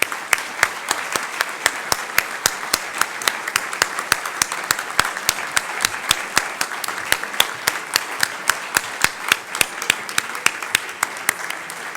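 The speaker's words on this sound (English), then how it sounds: "please give a round of applause to our speaker" An audience at the National Press Club applauds a speaker, steady dense clapping filling the room for about twelve seconds, with sharp individual claps standing out near the front and no talk over it.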